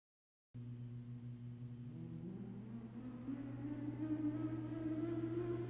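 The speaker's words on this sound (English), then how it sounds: "As the cars are lined up on the grid, engines are roaring" Race car engines idle on the starting grid of a Miami circuit race, a steady low rumble that builds in pitch and loudness as several engines rev up, with no talk.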